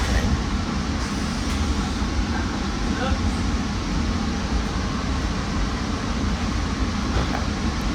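Steady low rumble and rolling noise inside an MBTA commuter rail car while riding, continuous throughout with a faint voice now and then underneath.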